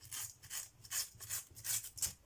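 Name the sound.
cutting paper to make an envelope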